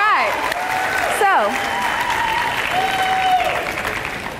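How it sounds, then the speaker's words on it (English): Audience at a college speech night applauding, a continuous wash of clapping from a crowd lasting several seconds, with a voice heard speaking over it. "Can I get an applause real quick?"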